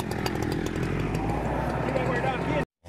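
A chainsaw cuts firewood, its engine running loud and steady close by for most of the clip with a harsh buzzing drone, then cutting off abruptly near the end; a voice is heard alongside.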